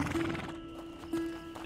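A horse neighs in the video game A Plague Tale, a loud whinny near the start followed by a second shorter call, with faint hoof clip-clops and ambient game sound beneath.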